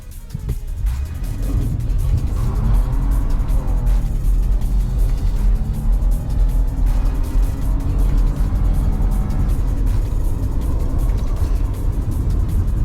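A two-wheel-drive Ford F-150 with the 2.7 engine accelerating hard from 0 to 60, a loud, sustained engine roar heard from inside the cab with a rising pitch and no talking.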